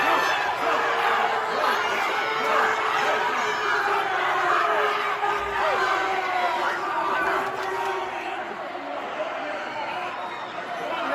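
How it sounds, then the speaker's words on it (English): Protesters crowd the doors of the House and Senate chambers, yelling and chanting for an assault weapons ban, a dense continuous roar of many voices with shouting rising above it throughout. "stood at the doors to the House and Senate all day, yelling and chanting and demanding an assault weapons ban"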